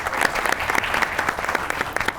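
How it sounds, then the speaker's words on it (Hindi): A studio audience on a Pakistani comedy talk show claps for politician Asif Ali Zardari, a lively burst of crowd applause with distinct sharp hand claps rippling through, moderately loud and unbroken by talk. "आसिफ अली ज़रदारी के लिए ताली"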